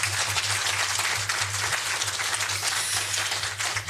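An audience at an international conference on women's economic empowerment applauds a keynote address, a steady dense wash of clapping from many hands filling the hall without pause.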